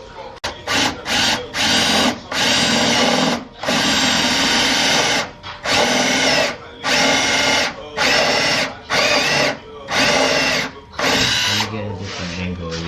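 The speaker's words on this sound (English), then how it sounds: "we need a step drill so we can drill a little more" A step drill bores a large hole through a car bumper for a quick-release kit, loud whining bursts of several seconds each separated by brief pauses, close up.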